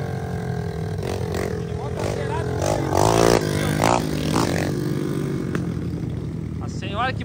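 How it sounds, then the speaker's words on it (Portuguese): Small motorbike engines rev and buzz nearby in uneven bursts, with people talking over the noise. "Barulheira dessas motos"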